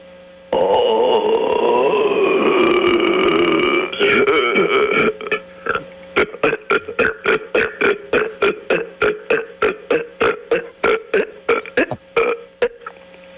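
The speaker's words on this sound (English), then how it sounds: "Regular belching, but I'm going to end it with what I call a rapid-fire belch" A man calling in over a phone line lets out a long, sustained belch, then a rapid-fire series of about twenty short, evenly spaced burps, loud and close with no talking.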